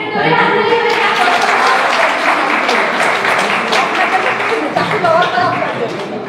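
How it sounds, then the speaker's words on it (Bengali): A large audience breaks into loud, dense applause that holds steady for several seconds, with voices mixed into the clapping. "একটা জোরে হাততালি হয়ে যাক।"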